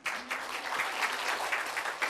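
Big applause fills a stage hall as Kim Bong-gon, a traditional Korean schoolteacher figure, is welcomed on, a dense steady wash of many hands lasting throughout, loud and close, with no voices standing out.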